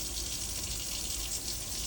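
Hot and cold tap valves running water into a drain with a steel P-trap, giving a steady, even rush of flowing water that is moderately quiet and continuous throughout, with no talking.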